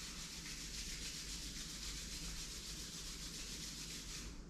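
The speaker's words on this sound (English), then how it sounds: "Rub your palms." Palms rubbing together during a yoga session, a faint, continuous, even swishing friction with no pauses and no talk.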